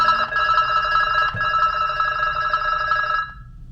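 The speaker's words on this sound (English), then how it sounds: "there's a sample of the ringtone. It's kind of pretty electronic sounding" A hotel room's AT&T cordless phone plays its electronic ringtone, a bright warbling multi-tone chirp pattern held steadily and close before cutting off near the end.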